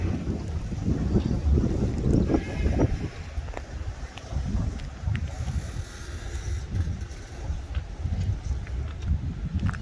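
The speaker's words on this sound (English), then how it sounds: "A little breezy out here." Gusty coastal wind rumbles against the microphone on a breezy harbor front in Depoe Bay, Oregon, a constant loud blustery roar with faint surf-like wash beneath, no talk.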